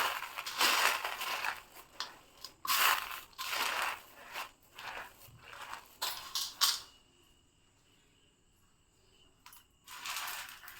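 Roasted gram, sesame seeds and jaggery are stirred together by hand for Sankranti, giving bursts of dry crunching and rattling in uneven rhythmic strokes, then a quiet pause before one more short burst.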